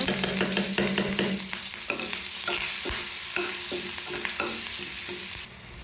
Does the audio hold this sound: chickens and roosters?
no